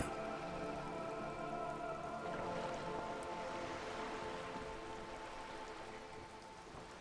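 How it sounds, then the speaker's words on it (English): Steady rain patters on wooden boards and open water in the rainy world of Disco Elysium, a continuous even wash of drops lasting throughout with no voices. "All around you, rain keeps falling down. On the wooden boards she's standing on, and on the water around you."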